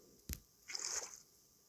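A player in Minecraft drops down into water: one sharp thud, then a short splashing, sloshing burst that fades away, quiet with no talk.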